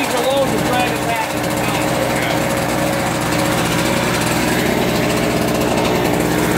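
Harbor Freight GEN1250A portable generator engine running steadily without load, a continuous loud buzzing drone that fills the whole clip.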